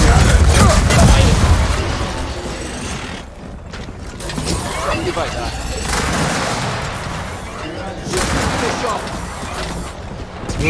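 Repeated video-game gunfire crackles and booms in bursts, loud and close, with heavy low-end blasts and mechanical clatter, while excited players talk over the action.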